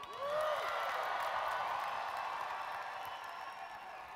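Applause from a large audience at a company convention, a broad steady wash of clapping with a faint whistle-like tone near the start, sustained at even loudness and easing slightly toward the end.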